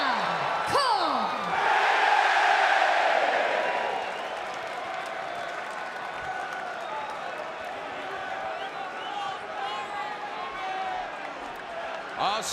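Sold-out arena crowd at Barclays Center for an NXT wrestling event, a broad roar of cheering and applause that swells early then settles into a sustained murmur, with a commentator talking over it.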